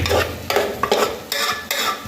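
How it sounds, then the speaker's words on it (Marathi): Ingredients for tomato rice stirred together in a hot pan, heard up close as four or five rhythmic scraping strokes over a continuous sizzle. "एक 2 मिनिटं सर्व जिन्नस एकजीव करून घ्यायचं।"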